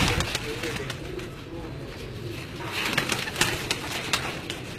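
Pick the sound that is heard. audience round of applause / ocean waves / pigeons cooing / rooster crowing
pigeons cooing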